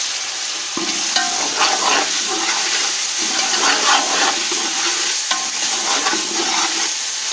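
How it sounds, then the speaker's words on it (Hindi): Water poured into a hot pan of sizzling onions and spices for a vegetable pulao, giving a steady, close frying hiss with stirring scrapes throughout. "अब मैं फिर थोड़ा सा पानी डाल दूँगी।"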